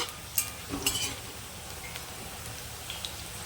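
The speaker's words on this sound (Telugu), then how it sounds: "కలుపుతూ ఫ్రై చేసుకోవాలి" Bitter gourd frying in oil in a pan while being stirred, a steady soft sizzle with a few sharp scraping clicks of the spoon early on, close and alone with no talk.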